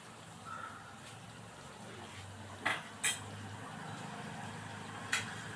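A spoon stirs chili powder into curry in a pan: quiet scraping under a low background hum, broken by three sharp metallic clinks of utensil against pan, no talking.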